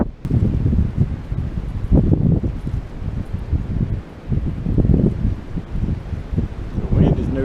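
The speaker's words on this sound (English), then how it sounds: "The wind is no joke" Strong gusty wind buffets the microphone on a mountain hiking trail, a loud continuous rumbling roar that rises and falls without a break.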